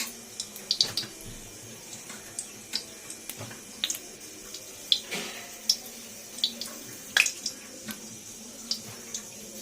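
Jackfruit frying in oil in a wok, with repeated sharp sizzles and pops over a low, steady hiss, close by and alone.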